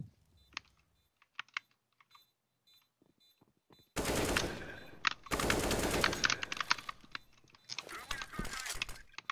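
A first-person shooter video game plays bursts of loud rapid gunfire, with sharp mechanical clicking of keyboard keys heard close by before and between the shots.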